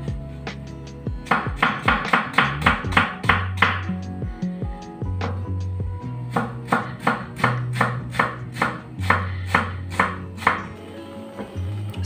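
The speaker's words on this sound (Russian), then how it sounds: "Беру одну головку репчатого лука среднего размера и нарезаю ее кубиком." A knife dices a medium onion on a cutting board in quick bursts of steady, crisp strikes, pausing briefly between runs.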